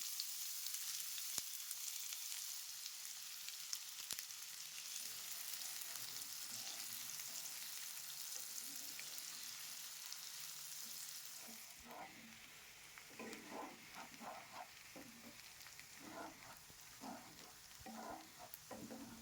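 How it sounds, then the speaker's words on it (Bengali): Chopped onions hit hot mustard oil in a wok already tempered with dried red chillies and cumin, giving a steady close sizzle that swells into louder crackling frying with stirring scrapes. "এবার কুচিয়ে রাখা পেঁয়াজগুলো দিয়ে দেব।"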